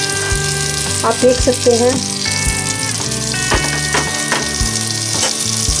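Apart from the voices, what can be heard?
rajma masala frying in a pan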